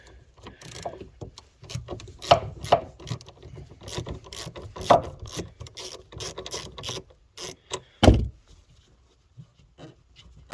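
A wrench loosens the 10 mm nut on the negative battery terminal of a BMW M3, with the battery mounted in the trunk. The ratcheting clicks and scraping come in close, irregular bursts, ending in one sharp louder clack, with no talking.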